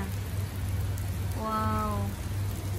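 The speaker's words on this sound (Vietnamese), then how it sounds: "mưa quá chừng lớn luôn cả nhà ơi" Heavy rain pours steadily in Germany, a dense close hiss, while someone sheltering under a shopping centre's cover speaks briefly in the middle.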